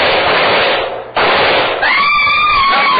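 A rifle shot in an old-time war radio drama comes as a loud, harsh burst of noisy blast that cuts out briefly and returns, followed by a wavering high whine.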